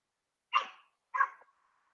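A dog gives two sharp barks about half a second apart, close and fairly loud, with silence around them.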